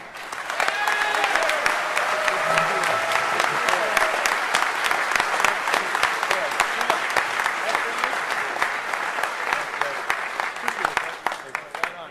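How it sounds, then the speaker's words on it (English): A large conference crowd at a hacker convention's closing ceremony claps loudly and continuously, dense applause swelling quickly and holding steady before thinning at the end, with a few voices and cheers mixed in. "Let's give them an incredible round of applause."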